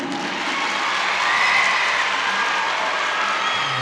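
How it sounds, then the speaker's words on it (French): An audience at a spelling-contest preselection in Bamako bursts into sustained, dense applause, steady and loud for several seconds with faint cheering mixed in. "Ça s'applaudit!"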